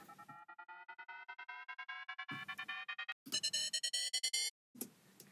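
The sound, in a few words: white noise uplifter effect with triplet transgate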